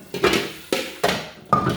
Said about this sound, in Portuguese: enxaguar essa louça